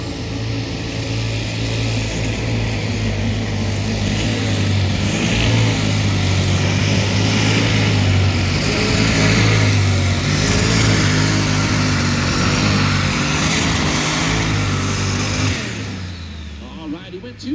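A John Deere pulling tractor burning alcohol roars at full throttle in a steady, loud, sustained drone during a county fair tractor pull, fading off near the end.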